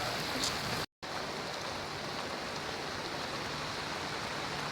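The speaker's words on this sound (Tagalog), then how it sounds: "Napakalakas ng ulan." Heavy rain pours down in a dense, steady hiss that fills the whole clip, with a brief dropout near the start.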